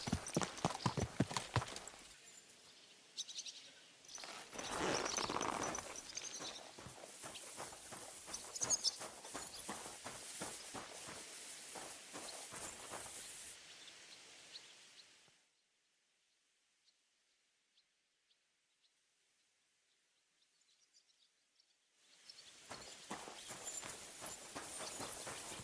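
A horse's hooves clip-clop at a brisk pace after a race in the game Kingdom Come: Deliverance 2, clear and close, then fade into near silence before the hoofbeats return.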